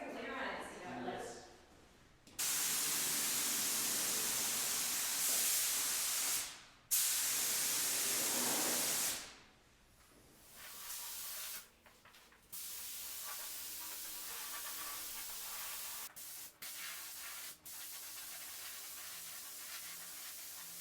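A 3M Performance spray gun sprays clear coat in long, loud, steady hissing passes broken by short pauses, followed by quieter stretches of background noise with people talking.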